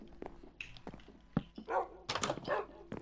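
Dogs in Minecraft PlayStation 4 Edition give several short, close barks mixed with soft whimpers and yips in quick bursts, with no talk over them.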